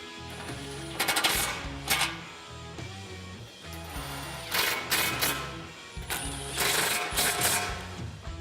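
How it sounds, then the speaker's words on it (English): Ratcheting bursts from a 13mm socket tightening the bolts of an Off Camber Fabrications by MBRP skid plate on a 2016-2019 Toyota Tacoma, several close, loud runs of rapid clicking separated by short pauses, with no talk. "Then we're going to come in with the 13 and tighten them all down."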